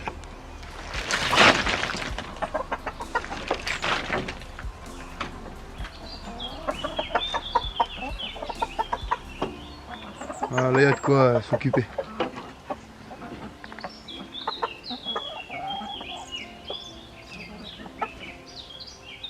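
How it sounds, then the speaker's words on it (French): Backyard hens on a permaculture micro-farm cluck and squawk in scattered bursts, near and fairly clear, as they peck at vegetable scraps, with a person talking between the calls. "Donc, on va mettre ça aux poules. Et vous allez voir qu'ils vont s'en régaler."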